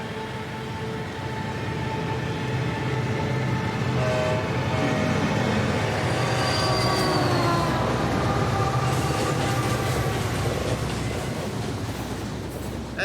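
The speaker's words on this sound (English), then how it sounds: "I think there might be a train coming." A freight train rumbles past continuously in the Australian Outback, with steady low roar, metallic wheel squeals and faint rhythmic clatter, fairly loud throughout.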